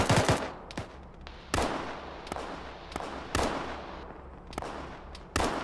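An automatic gunner fires a machine gun in the Arma video game, sending repeated sharp bursts and single cracks at irregular intervals, loud and close, with no talk.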